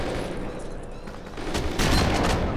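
Shotgun blasts in the Kane & Lynch 2: Dog Days video game: dense, booming gunfire that builds toward the end, loud and continuous, mixed with muffled game sound.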